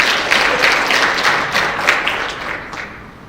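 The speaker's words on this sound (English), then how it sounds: "Let's give number 6 a round of applause." Audience applause for a contestant at a school spelling bee, a bright, even burst of clapping that holds steady before tapering off near the end.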